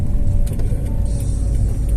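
Traffic with cars and buses passing near the Gedung Perundingan Linggarjati: a loud, close, continuous engine rumble with faint rattles on top, no one talking.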